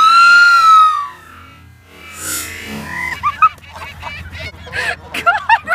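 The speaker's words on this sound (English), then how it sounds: "Geese are kind of dumb." Geese honking close by at a bird feeding spot, a loud drawn-out honk at the start followed by a burst of rapid, overlapping honks and calls.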